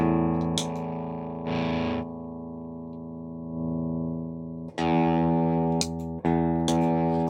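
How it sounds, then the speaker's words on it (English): Distorted Epiphone SG 400 electric guitar through a Tantrum pedal and Klon, a few sustained chords and short strums with pauses between, loud and close with no voices. "it only works when the distortion's on, so it's only boosting distortion"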